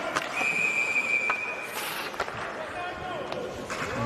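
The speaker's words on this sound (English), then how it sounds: "Another whistle here." A referee's whistle sounds during an ice hockey game, one sharp sustained blast amid arena crowd noise and commentary.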